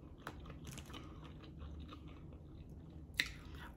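Close, quiet chewing of a fish taco with street sauce, a crunchy bite at the start and another sharp crunch near the end, with soft mouth sounds between.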